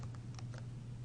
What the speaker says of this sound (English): and I start typing.